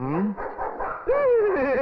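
A dog in a movie scene gives short, pitched barks and whining yelps close up, brief and clear against a quiet background.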